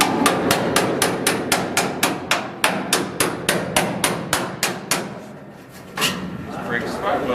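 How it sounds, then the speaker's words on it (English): Hammer blows strike a spot weld tool to break the spot welds holding a floor pan on a 1967 El Camino, about twenty sharp metallic hits in a steady rapid rhythm from close by, then a short pause and one more impact. "give me a spot weld tool and a hammer"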